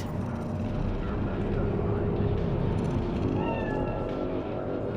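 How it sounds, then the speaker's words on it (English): A cat meows briefly in Cyberpunk 2077's Night City, a short high cry near the end rising over a loud, constant rumbling city ambience. "The cat."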